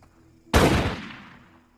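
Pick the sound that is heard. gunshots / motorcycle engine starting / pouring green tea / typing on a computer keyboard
gunshots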